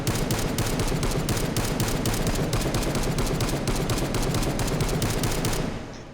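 Semi-automatic fire from a SCAR rifle chambered in 5.56 with a 30-round magazine, inside the VR shooting game H3VR: a dense, rapid run of loud sharp reports that goes on for about six seconds and then cuts off.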